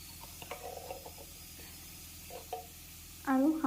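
Mustard-garlic paste with turmeric, cumin and chili powder is stirred in a pan, producing faint scattered scraping taps over a quiet background, ending with a brief louder tone.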